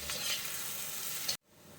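Broccoli sautés in a pan for a Malayalam-style broccoli roast, a loud steady close sizzle and hiss that cuts off abruptly, then a fainter sizzle resumes.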